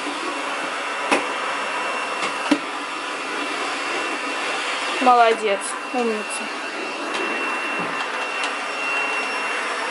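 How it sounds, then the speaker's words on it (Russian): A child runs a vacuum cleaner under a table at home, a steady loud whirring drone throughout with occasional bumps and knocks, while an adult speaks briefly in Russian over it. "Давай я выдвину креслице, а ты там пропылесосишь под столом."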